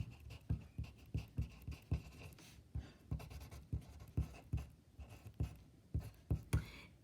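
A pen scratches across paper, writing out a chemistry calculation in a quick, regular rhythm of short strokes, close and quiet, with no voices.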